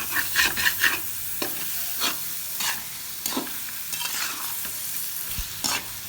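Masala roasting in ghee for stuffed karela, stirred with repeated scraping strokes over a constant close sizzle, loud and rhythmic, with no speech.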